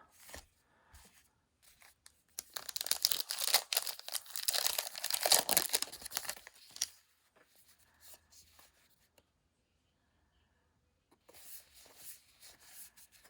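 Wrappers on 2020 Allen & Ginter trading card packs are torn open, a dense burst of crinkling foil ripping for several seconds, then quieter rustling and card handling with a brief crinkle again at the end.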